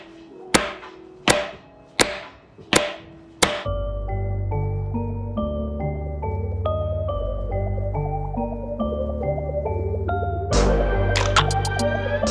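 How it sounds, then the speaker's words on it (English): Five sharp, evenly spaced hammer blows drive a custom Collins Garage pilot bearing into place, loud and close, before music takes over. "take a hammer and whack it in there"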